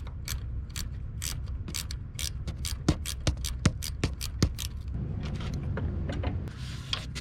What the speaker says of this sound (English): I had to get in there with a ratchet.